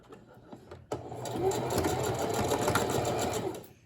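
A sewing machine runs a zigzag stitch over a fabric edge while sewing a medieval cloak. A brief click comes first, then a close, steady mechanical whir runs to the end.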